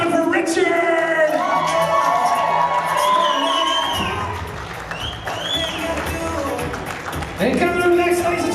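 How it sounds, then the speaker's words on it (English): Wedding guests at a reception clap and cheer as members of the wedding party are welcomed in, with whoops and shouts over steady applause, music playing and voices mixed in. "And keep those hands clapping for Richard."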